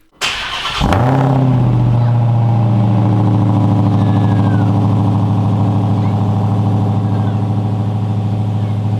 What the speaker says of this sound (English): It is time to cold start and hit the road.